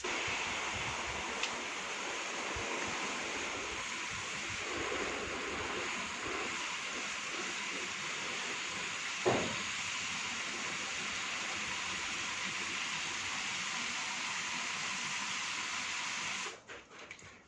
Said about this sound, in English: I need more water. Trusty hose.